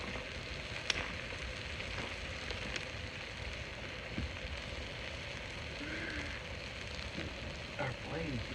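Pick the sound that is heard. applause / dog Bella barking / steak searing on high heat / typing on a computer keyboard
steak searing on high heat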